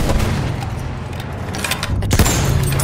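Enemy machine gun fire in the Battlefield 1 video game, near a Char 2C behemoth tank, rattles as dense continuous bursts of gunfire over a low rumble of battle, with a sharper cluster of shots near the end.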